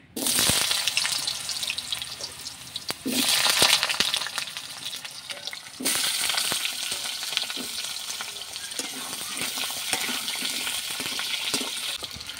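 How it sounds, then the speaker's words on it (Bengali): Potatoes fry in hot mustard oil with a loud, steady sizzle that runs the whole time, broken by a few stirring scrapes and clatters and one brief drop in level near the middle. "তেলটা গরম হয়ে যাওয়ার পর এর মধ্যে আমি আলুগুলো ভেজে নিচ্ছি।"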